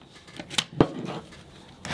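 Coarse 60 grit sandpaper rubs across a rusty hand saw blade in a few short, close scraping strokes separated by brief pauses.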